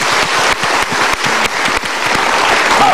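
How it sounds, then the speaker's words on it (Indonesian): A studio audience bursts into steady, full applause at a motivational talk show, with dense clapping that stays loud and close for the whole stretch, no voices over it. "kita berikan tepuk tangan"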